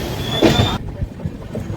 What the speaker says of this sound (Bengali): গুয়াহাটিতে অনেকক্ষণ ট্রেনটা দাঁড়িয়ে থাকার পরে গুয়াহাটি ছেড়ে দিল।